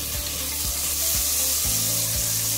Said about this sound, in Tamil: தக்காளி கொஞ்சம் வதங்கட்டும்.